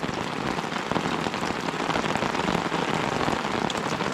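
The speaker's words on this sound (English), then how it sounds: "We got a heavy drizzle coming down." Heavy drizzle comes down steadily at a campsite on a canoe trip in Temagami, Ontario, a dense, even hiss of drops pattering close on surfaces without any break, with no talking.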